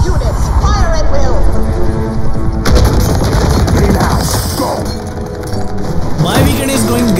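Gears of War 4 on PC: loud, sustained automatic gunfire rattles almost without a break, with heavy booms and dense bursts layered over one another.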